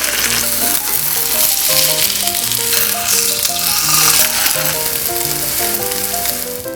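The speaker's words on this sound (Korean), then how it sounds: "팬에 기름을 둘러 중불에서 두부를 노릇하게 구워주세요." Tofu pan-fries in oil over medium heat, a loud, close, continuous sizzle with crackling spatters and a faint rattling edge throughout, easing slightly at the end.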